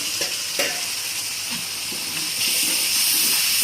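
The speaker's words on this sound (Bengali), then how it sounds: "একটু পানি দিয়ে কষিয়ে নেই" Spice paste being cooked down in a pan hisses and steams as water is added on a raised flame, a dense close sizzle that swells louder toward the end, with a few scraping stirs.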